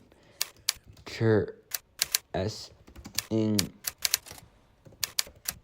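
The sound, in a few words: typing on a computer keyboard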